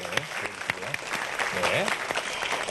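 An audience claps at a Korean television talk event about a rice-cake shop owner, the applause moderate and fairly close with a voice speaking over it.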